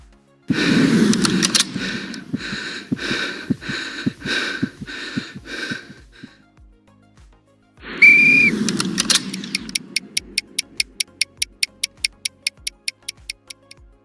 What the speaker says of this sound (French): des bruits d'armes que l'on recharge, des souffles saccadés, un sifflet, un chronomètre, des bruits d'explosion